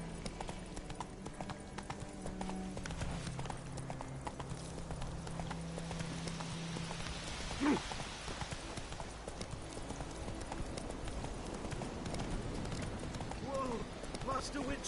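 Roach the horse trotting in The Witcher 3, a steady rhythmic clip-clop of hooves throughout, with voices talking over the hoofbeats and a brief louder thump midway.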